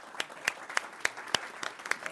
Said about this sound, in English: if we could give Shane and Diane, RoboMom, a big round of applause